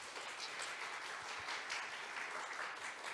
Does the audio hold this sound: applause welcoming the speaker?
yes